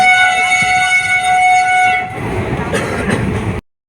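A loud train rolls past close by, its horn blaring in a sustained tonal blast for about two seconds before giving way to the rumble and clatter of the passing cars, then cutting off abruptly.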